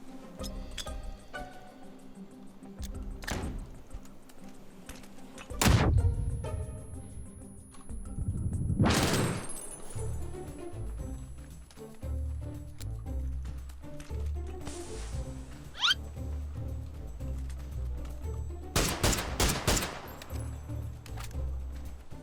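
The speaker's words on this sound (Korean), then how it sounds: "자 이렇게 총소리 내주면은" Gunfire in the battle-royale game PUBG during a smoke-grenade fight: a handful of sharp, widely spaced shots crack out over quieter in-game ambience, with a couple of shots coming in quick pairs.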